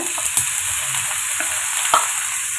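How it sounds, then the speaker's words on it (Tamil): Chopped beetroot sautéing in hot oil with popped mustard seeds and cumin, a loud, dense, continuous sizzle with a few soft stirring scrapes, no voices. "சேர்த்துட்டு இதை 2 நிமிஷம் ஹை ஃப்ளேமில் வச்சு வதக்கி எடுத்துக்கோங்க"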